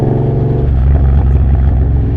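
A Triumph Bobber motorcycle with a Motone Mayhem X-Pipe exhaust, producing a loud, deep, continuous engine rumble with throaty pulses close by and no talk.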